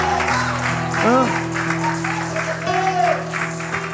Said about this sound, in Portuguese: Você consegue aplaudir dando glória